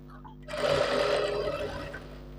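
A tailor's sewing machine stitches a shirt seam in a steady, continuous whirring run of about two seconds. It starts abruptly after a brief quiet lead-in, stays close and fairly loud, and holds an even hum throughout.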